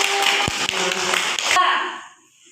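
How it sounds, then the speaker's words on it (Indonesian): Classroom applause for a student group, dense clapping from many hands lasting about a second and a half, then stopping abruptly and leaving a faint room tail. "Kasih aplaus dulu untuk kelompok 1."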